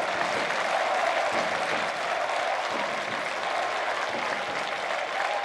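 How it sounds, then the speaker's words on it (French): Dense, sustained applause from a large crowd of football spectators, a warm ovation of many hands clapping steadily without pause as a player leaves the pitch at an Angers SCO match. "Écoutez l'ovation que lui ont réservé les spectateurs lors de sa sortie du terrain."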